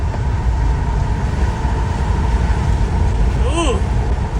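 A train passing on a road trip from Utah to Tennessee, heard as a steady low rumble from inside a moving Ford Transit Trail van, with road noise throughout and a brief rising tone near the end.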